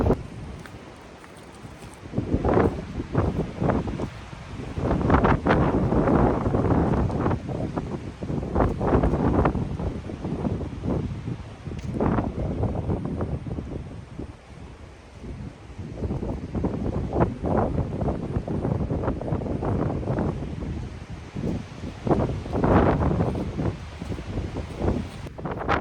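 Gusty mountain wind in bad weather surges and fades in repeated loud blasts against the microphone, rising and falling over about half a minute with no other clear sound.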